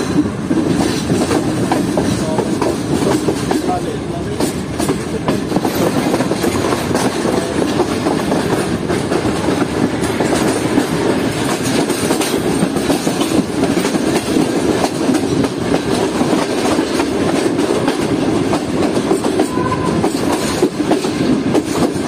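Train rolling along a railway line in Pakistan on the Lahore to Rawalpindi route, a steady dense rumble of wheels and carriages with faint clickety-clack, loud and continuous throughout with no talk.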